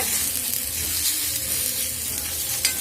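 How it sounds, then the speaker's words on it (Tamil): Grated coconut and curry leaves dry roasting in a pan, giving a steady, close sizzling hiss that stays even throughout, with no talking. "இதை போட்டு வறுக்க போகிறோம் வறுக்கணுங்க இது கூட நம்ம கருவேப்பிலையும் ஆட் பண்ணிக்கலாம் நல்லா வறுத்துக்கோங்க"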